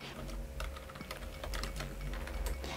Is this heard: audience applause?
no